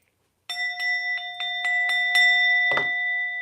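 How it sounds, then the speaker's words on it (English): A struck bell rings out in a series of evenly spaced metallic strikes, each leaving a sustained bright tone that builds and lingers, loud and close, ending with a duller thunk-like hit. "I am going to be hitting the bell just to like clear whatever be coming through"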